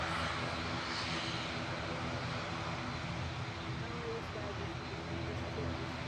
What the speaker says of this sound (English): There goes the Lufty lifting off.